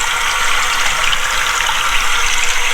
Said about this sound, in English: And the water's running.